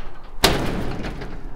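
A loud storage shed door slams shut with a single sharp bang, followed by a brief rattling ring-out.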